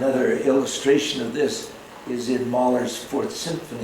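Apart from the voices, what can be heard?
None of the usual background noises is heard.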